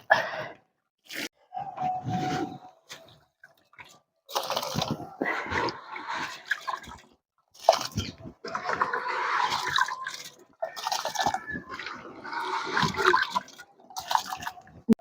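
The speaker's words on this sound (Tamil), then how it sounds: "இப்போ வந்து அரிசி போட போகிறோம்" Rice is tipped into a pot of water for chicken dum biryani cooked on a traditional outdoor village stove, bursts of rattling grains and splashing water broken by short pauses, close and fairly loud.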